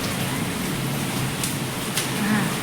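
Rain falls outdoors in windy monsoon weather, giving a steady, close hiss of drops that stays even throughout with no pauses.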